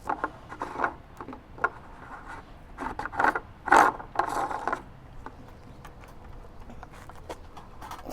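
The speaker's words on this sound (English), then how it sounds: "Give that lid nice and tight" Plastic lid being screwed down onto a Keg King Ferm King snub nose fermenter, making close, intermittent scraping and ratcheting twists in short bursts with quiet gaps between, and no talk.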